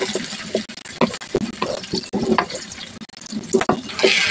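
Chopped onion frying in hot oil, heard as a steady close sizzle with repeated stirring and scraping knocks in the pan, no voices over it.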